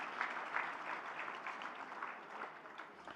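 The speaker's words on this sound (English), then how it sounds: "please give all our sponsors a huge round of applause collectively" Audience applause at a live Kiwi Indian Hall of Fame awards gala, a steady dense roar of many hands clapping from a large crowd, fairly distant and even throughout without any speech.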